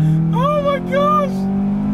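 A modified Acura RSX launching hard under launch control, its engine droning steadily up close while excited voices exclaim over it in two bursts.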